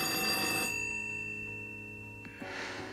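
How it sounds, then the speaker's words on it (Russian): A telephone rings indoors with a sharp electronic bell, one burst that cuts off and a second starting at the end, moderately loud with no talking. "Возьми трубку."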